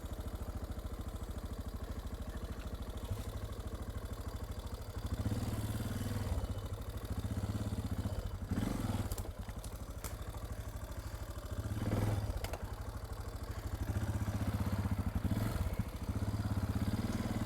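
A Suzuki DR650 single-cylinder motorcycle engine runs steadily up close, a loud, even thumping idle with mechanical clatter and brief swells in revs throughout.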